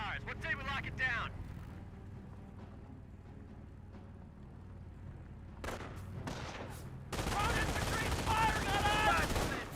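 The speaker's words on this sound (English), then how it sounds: "US sniper engaging the MG42 now" MG42 machine gun fire from Company of Heroes comes in rapid bursts at the start and again loudly at the end, with a quieter stretch of battlefield rumble and distant shots in between.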